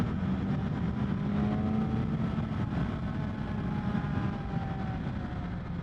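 A BMW M1000XR motorcycle engine drones steadily at low revs while the throttle is gently rolled on, its tone rising slightly, with continuous wind and road noise and no talking.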